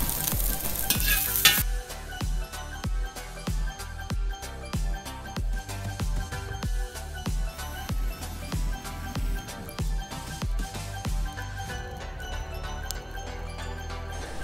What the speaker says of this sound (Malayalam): ആ എണ്ണയിൽ തന്നെ നമ്മൾ കുറച്ച് തേങ്ങാ കൊത്ത് വറുത്തെടുത്ത് വെച്ചു